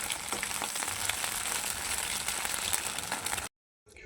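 Food fries in a pan while chow mein is being made, giving a continuous close sizzle with light crackles that cuts out abruptly near the end and then briefly resumes.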